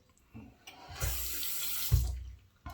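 Tap water runs into a sink to rinse shaving gear, a short hiss of flow with a couple of splashing bursts and thumps, no speech.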